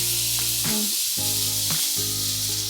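Washed beans sizzle loudly in a hot pan on a home stove, a continuous close hiss and crackle with a steady humming tone running underneath, and no one talking.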